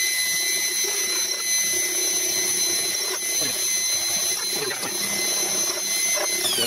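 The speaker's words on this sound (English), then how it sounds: "so I'll chamfer these front two while we're here" A milling machine cuts chamfers into holes in a scrap steel vise part with a small 8mm-shank tool, giving a steady high-pitched whine and hum with faint cutting chatter throughout.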